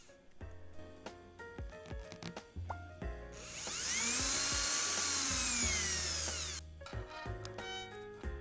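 A power drill whirs steadily for about three seconds, its pitch rising and falling, with clattering and knocking before and after.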